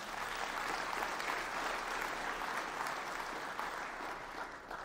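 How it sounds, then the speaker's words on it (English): An audience at an annual meeting event applauds, a dense, steady clapping from many hands that holds evenly throughout. "Can we please give them a round of applause?"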